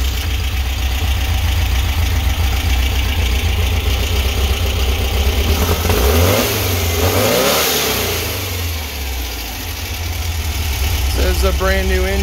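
A 1776cc aluminum-block engine with a Engle W100 cam revs loudly and continuously up close, climbing and falling in pitch over a rough idle, with a voice talking over it.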